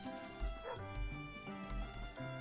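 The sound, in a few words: dog barking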